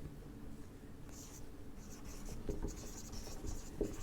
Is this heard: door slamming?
no